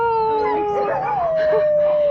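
A shelter dog in Huanchaco, Peru lets out a long, wavering howl, loud and close, sliding in pitch before breaking off.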